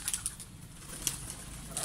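A pigeon lands with a few quick bursts of wing flapping, close but fairly quiet over a faint outdoor background, with no talking.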